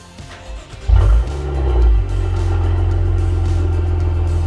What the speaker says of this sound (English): Start engine, Julius.